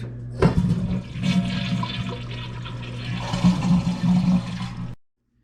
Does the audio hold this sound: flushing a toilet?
yes